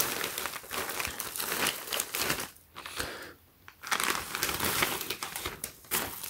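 A protective plastic bag around a black PacSun Basketball Skateboards hoodie crinkles and crackles as the package is opened, a busy, close rustling that runs almost continuously with a couple of brief pauses.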